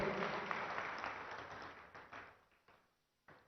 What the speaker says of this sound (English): give a big round of applause for what all happened in the 7 years in the state